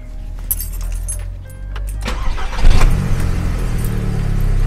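A car engine cranks and catches, then settles into a steady low idle, heard close up with some faint clicks and rattles before the start and no talking.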